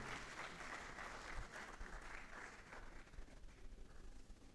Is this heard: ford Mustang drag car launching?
no